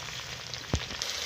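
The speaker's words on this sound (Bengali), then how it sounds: "পেঁয়াজটা ভালো করে ভাজা করে নেবো" Chopped onion and green chilli fry in a pan with cumin, a dense close sizzle with one brief thump of a spoon in the middle, no talking.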